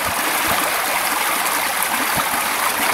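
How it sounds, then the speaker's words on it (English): Water pours from a hot pump in a strong, steady stream, making a loud, continuous rushing and gurgling close by, with no talking over it. "Man, it's flowing big time though. This water movement's excellent."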